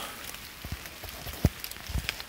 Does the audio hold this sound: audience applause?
no